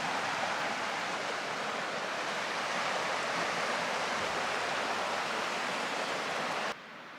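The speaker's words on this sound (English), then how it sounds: "This part is really cool where the little Missouri River's at, just kind of cutting through the rocks here." The Little Missouri River rushes steadily through rocks in a broad, even stream of water noise, close and continuous with no voices, ending abruptly.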